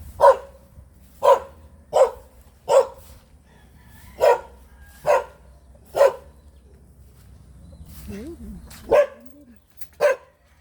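An angry dog barks repeatedly, about ten loud single barks at an even pace, fairly near, with a brief lull and faint background noise.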